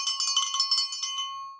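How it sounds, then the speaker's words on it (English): A bright bell sound effect rings in a quick flurry of metallic strikes, then a short ringing tail fades out, clear and alone. "ring that bell."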